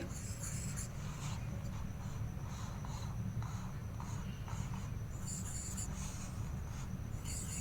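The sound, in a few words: pen circling a digit on paper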